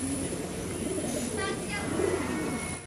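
Malwai pigeons coo softly in low, rolling calls against a steady background hum, with a faint higher chirp briefly in the middle.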